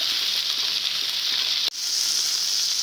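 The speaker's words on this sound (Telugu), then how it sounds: "బెండకాయలు టమాటా ముక్కలు పచ్చిమిర్చి అన్నీ బాగా వేగాయి" Okra, tomato pieces and green chillies fry in a pan with a steady, bright sizzle, broken by a single brief gap before the frying resumes at the same level.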